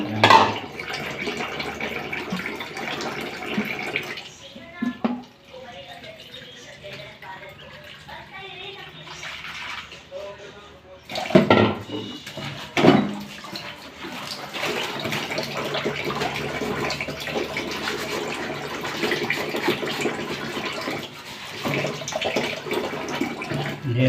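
Tap water runs and splashes in bursts while dishes are washed at a sink that keeps leaking even when shut off, with stretches of louder flow, brief pauses and clatter, and people talking in between.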